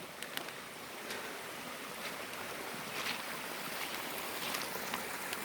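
Rainwater from an overnight downpour streams across a road in a steady, rushing wash, a continuous close hiss of flowing water with a few faint clicks, no talking.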